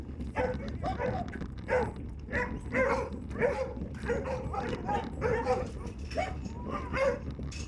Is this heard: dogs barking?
yes